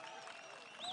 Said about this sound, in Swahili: Tumkaribishe basi na makofi.